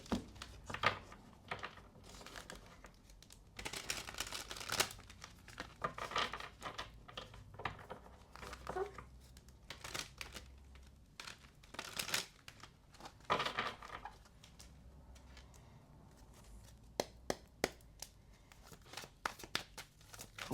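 Tarot cards are shuffled by hand in a quiet room, making soft, irregular riffling and crinkly flicks in scattered bursts over about twenty seconds, low in level.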